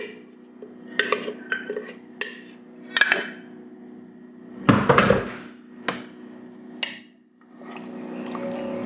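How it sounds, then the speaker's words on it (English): Beef rendang with spice paste is stirred in a pot: scattered clanks and scrapes of a utensil against the metal, a few sharper knocks, and soft wet shuffling between them, close by and without talk. "Kind of give it a stir"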